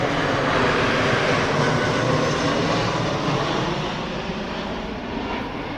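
An easyJet passenger jet flies overhead in a steady, loud broadband roar that fades slightly toward the end, heard alone without talk.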